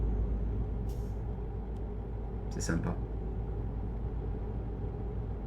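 A truck engine in the Euro Truck Simulator 2 game drones steadily as a low background rumble, with a brief air-brake hiss partway through and someone speaking briefly over it.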